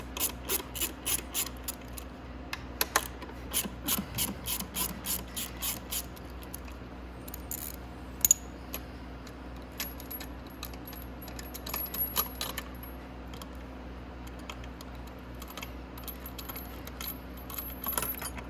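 A hand ratchet backs out 10mm bolts from the CVT cover of a Venom X22GT 250cc motorcycle. It makes a run of quick, close metallic clicks, then a few scattered clinks and taps.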